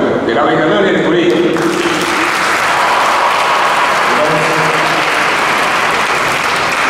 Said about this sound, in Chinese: 能不能借重大家掌声，给我们校长、我们全体的这些老师们，给他们一个热烈的鼓励